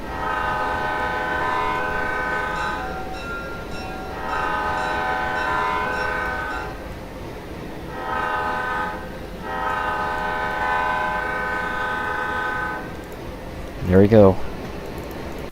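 A Penn Central Alco C630 diesel locomotive, number 6321, in the Trainz simulator sounds its multi-chime horn in several long blasts, with a shorter sharp horn note near the end and a steady engine rumble underneath while someone speaks briefly.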